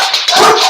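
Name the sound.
dogs barking after someone banged on a table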